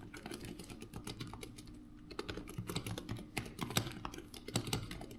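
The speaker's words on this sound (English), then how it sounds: "the clicky switches are closer to the tactiles in feel, but they're loud as hell" Typing on a Razer Huntsman V2 keyboard with clicky switches: quick, uneven bursts of sharp key clicks, close and fairly quiet, with no voices.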